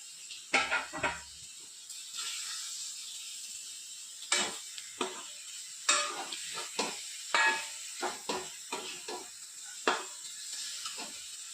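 Steady hiss of frying with repeated scraping, clattering strokes as chopped potatoes are stirred around a pan, irregular and close.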